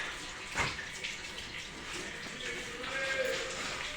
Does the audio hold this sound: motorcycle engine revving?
no